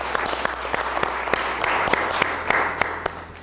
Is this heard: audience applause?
yes